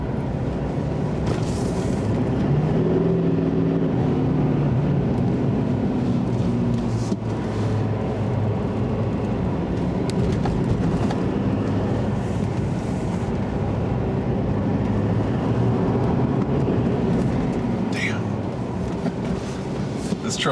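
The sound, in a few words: 2020 Chevy Silverado 2500 HD Duramax diesel truck climbing steep hill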